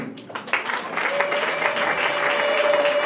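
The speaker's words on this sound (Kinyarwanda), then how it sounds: "reka mpagurutse ubukwe n'umugeni twatuze amashyi tubishimire" A crowd at a Rwandan wedding breaks into loud, sustained applause for the bride, the clapping building quickly and continuing steadily to the end.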